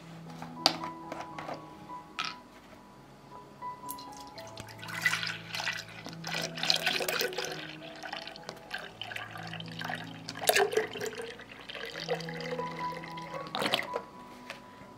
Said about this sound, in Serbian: U bokal ću sipati pola litre mleka.